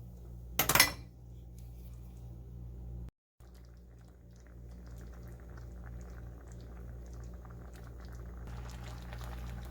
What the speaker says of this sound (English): we're going to go ahead and let these simmer together so that our beef gets all of that yummy taste